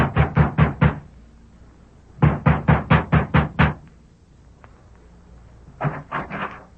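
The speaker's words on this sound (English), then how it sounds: "Sheriff Ramsey has just dismounted before the ranch house of Alva Carlson and is knocking at the door." Knocking on a ranch house door as a radio drama sound effect: three close, firm bursts of five to six quick raps, with quiet pauses between them.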